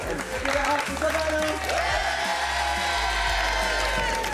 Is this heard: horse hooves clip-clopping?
no